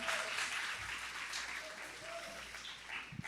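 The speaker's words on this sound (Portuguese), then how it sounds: "Aplauda o Senhor." A church congregation applauds during a communion service, a steady wash of clapping from many hands lasting a few seconds, heard at a moderate distance.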